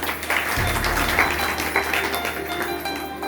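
Women and villagers at a rural self-help group workshop clap together for a few seconds, the applause moderate and somewhat scattered over a low electrical hum and faint background voices.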